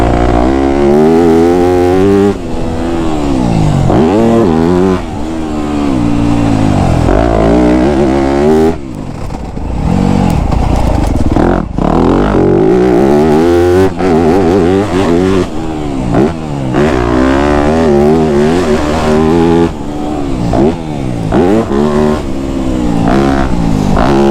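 A Yamaha YZ250F dirt bike engine runs loud and close, revving up and down repeatedly with rising and falling pitch and a rough mechanical clatter, alone without talk.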